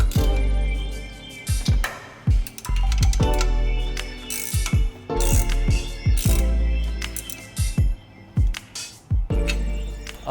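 A ratchet tightens new header and overpipe bolts on a supercharged Subaru BRZ engine. It gives close, rapid bursts of clicking with short pauses between strokes, and no one talks.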